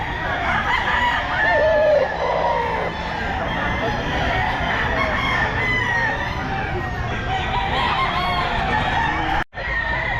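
A gamefowl stag crows at a pet market, the drawn-out calls rising over clucking fowl and crowd noise, with someone talking nearby.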